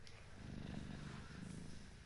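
A pet cat in the Warframe video game purrs softly and steadily, a low rhythmic rumble close by and alone.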